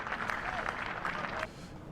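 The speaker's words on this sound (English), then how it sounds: "To the gracious applause here round Sophia Gardens" Gracious applause from the crowd at Sophia Gardens cricket ground in Cardiff during a Glamorgan versus Yorkshire match, a steady wash of clapping at moderate distance that ends abruptly near the close, with faint talk in the background.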